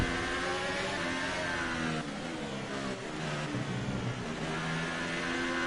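A Formula 1 car engine in the video game F1 2018 revs hard and continuously, pitch rising and falling through gear changes, loud and close throughout.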